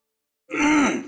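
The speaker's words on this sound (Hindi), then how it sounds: "इसीलिए बिना वक्त आ जाती है खांसी" A single rough throat clearing, close and fairly loud, after a moment of silence.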